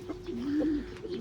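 Young grizzle pigeons give a single soft, brief coo, faint and close, with no voices.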